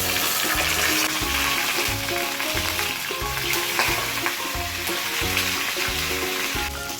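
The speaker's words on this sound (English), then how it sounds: "But first I'm gonna sear it nicely from all the sides" Fatless lamb sears in a hot kadai with a loud, dense sizzle, over a rhythmic low pulsing hum and occasional small pops, steady and close for the whole stretch.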